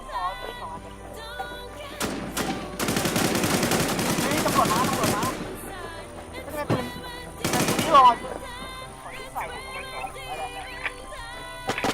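Gunfire in the online zombie-survival game Infestation, with several loud bursts of rapid automatic shots in the middle and a second burst near the end, over a background of game sounds and voices.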